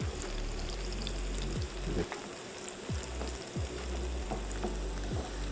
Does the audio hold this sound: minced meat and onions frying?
yes